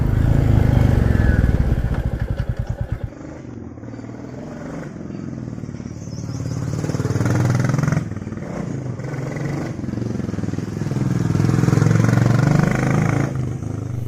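A 2022 Royal Enfield Classic 350 carrying two riders thumps along with a rapid single-cylinder chug at first, then settles into a steady engine drone with wind rush, rising and falling with the throttle, with no talk.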